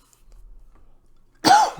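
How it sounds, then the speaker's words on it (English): A single close cough bursts out near the end after a stretch of near-silence, brief and fairly loud with one sharp onset. "I hate coughing"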